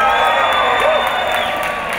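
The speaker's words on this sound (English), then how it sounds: "Let's hear a big cheer for you." Rooftop audience of couples cheering and whooping together, a dense burst of crowd noise with a few higher shouts rising above, fairly close and sustained for a couple of seconds.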